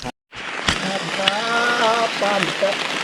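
Rain patters steadily on a mountain forest trail during the climb, with people talking over the downpour throughout.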